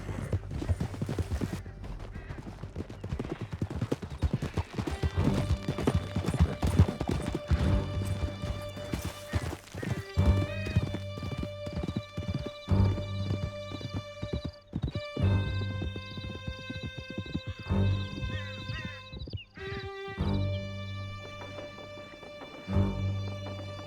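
Horses gallop with steady clip-clop hoofbeats and occasional whinnies during a chase through a canyon in Red Dead Redemption 2, loud and continuous over a music score.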